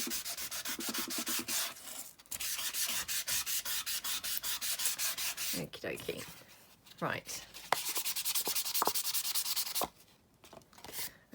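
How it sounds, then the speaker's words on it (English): A sanding block scrubs across paper ephemera to dull its sheen, a rapid, rhythmic rasping of close back-and-forth strokes that pauses briefly now and then. A voice speaks a few words between bursts. "So just taking that sheen off there a bit with my sanding block."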